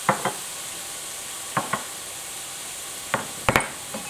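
Stir-fried rice and vegetables tossed in a pan, with a steady sizzle under a few sharp scraping knocks of a utensil against the pan, coming in pairs and clusters.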